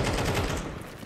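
Rapid automatic gunfire rattles loudly in a video game firefight, a dense continuous burst of shots filling the whole moment.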